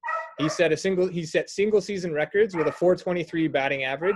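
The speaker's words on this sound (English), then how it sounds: "pardon the barking" A dog barks and yips in the background of a home setting while someone talks steadily and closely over it.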